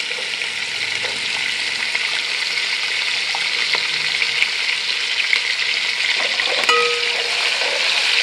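Onions and garlic sizzle steadily in a hot pan, a bright continuous frying crackle with a few small clinks near the end, close and alone without any talk.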